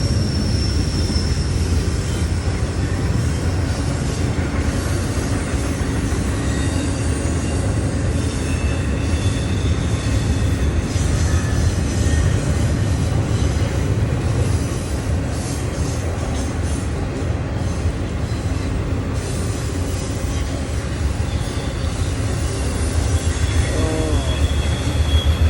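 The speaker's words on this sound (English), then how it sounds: "Just enjoy the rhythm of the train." A train rumbles past close by, loud and continuous, with rhythmic wheel clatter over the rails and occasional metallic squeals.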